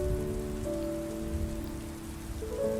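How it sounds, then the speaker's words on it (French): Steady rain falls without pause, a dense continuous patter close by, with a faint low tonal hum running underneath. "La pluie continue de tomber."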